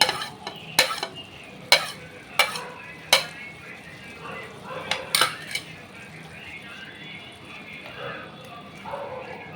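Bhindi masala gravy with curd stirred in a pan on the stove, with sharp spoon scrapes and clanks against the metal over a steady bubbling sizzle, close and fairly loud, with a voice talking faintly at times.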